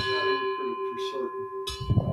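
A bell tolls with a sustained ringing tone and repeated strikes that hang and decay in the air, moderately loud, with faint speech-like noise underneath.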